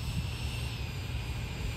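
A Mirage 2000 radio-controlled model jet with an 80mm electric ducted fan flies overhead, its steady high-pitched whine and rushing roar holding constant at moderate distance, no talk.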